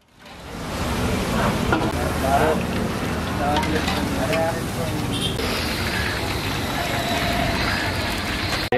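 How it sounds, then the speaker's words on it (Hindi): French beans, potatoes and kofta frying for zam zam pulao give a dense, steady sizzle and hiss close by, with some stirring, while a voice talks over it. "अच्छे से फ्राई करें आप इसे ठीक है तो यहाँ पे सब चीज़ फ्राई हो गई है फ्रेंच बीन्स और पटैटोस कोफ्ते"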